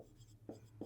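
Pen scratching on paper while working a maths exercise on sets, two short strokes at close range, quiet and brief, with a faint low hum underneath.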